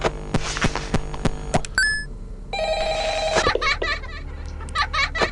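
An in-game telephone rings in Five Nights at Freddy's Ultimate Custom Night on PS4, a loud repeating bell burst of several rings, then an electronic tone and busy game sounds.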